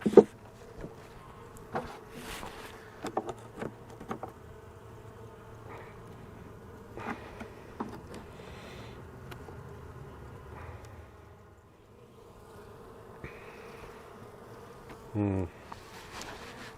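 Honey bees buzz around an opened hive during an after-winter check, a steady low drone with a few louder close passes near the end.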